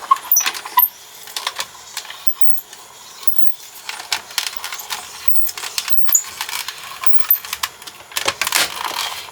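A Spellbinders die-cutting machine feeds a card and die through its rollers, giving a run of light clicks, rattles and ratcheting ticks at close range with no talk.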